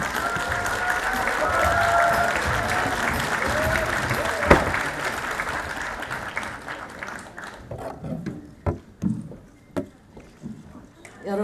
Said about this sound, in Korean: 여러분 다시 한번 환영의 박수 부탁드립니다